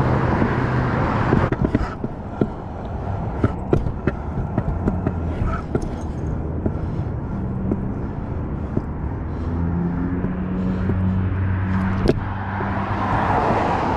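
Road traffic passing beside a scooter path, a constant loud roar of cars with engine hum and occasional sharp knocks and clatters close by throughout.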